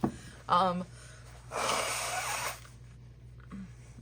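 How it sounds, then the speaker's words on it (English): A wet, forceful nasal blast of nose blowing, followed by a longer noisy blow and a faint sniff at the end. "I had to blow my nose because your girl is sick"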